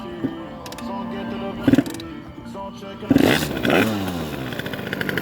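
A 2009 Rieju MRT Iron Max motorcycle on a cold start attempt gives two sharp kick-start clatters, then its engine sputters into a rough, close rev, with voices nearby.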